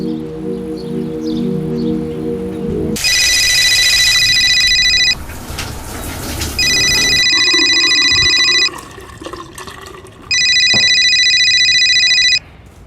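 A phone ringing with an incoming call, three loud electronic ring bursts of about two seconds each with short gaps between, close and prominent over quiet background noise.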